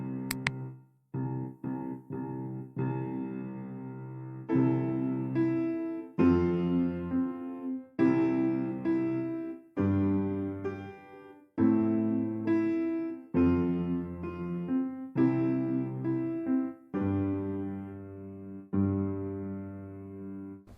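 Piano plays a slow sequence of sustained triad chords over low left-hand octave bass notes, each chord struck and held for a couple of seconds before the next, unshifted.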